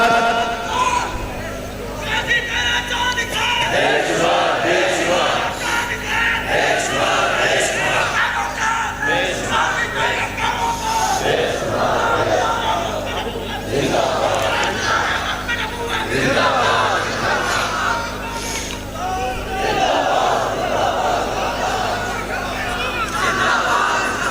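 A large crowd at a religious stage gathering shouts slogans together in repeated loud surges, each swell rising and fading over sustained crowd noise and voices.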